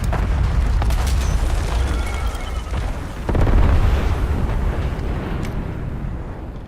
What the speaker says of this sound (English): Damn, and a napalm strike?